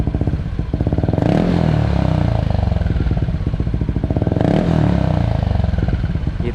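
Yamaha Aerox scooter with a Villan SR1 racing exhaust revved hard, a loud, raspy, rapidly pulsing engine note that surges twice in quick succession and holds at high revs, heard up close with no talk.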